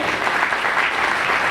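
Loud, dense applause from an audience at a religious scripture assembly during a Jain festival in Rae Bareli, a steady wash of clapping that fills the short span without pause.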